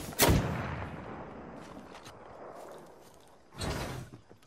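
Gunfire in the video game Apex Legends: two sharp, loud bursts, one at the start and one near the end, with a quieter rumbling stretch between them and no talk.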